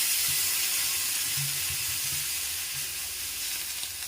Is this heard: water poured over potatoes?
yes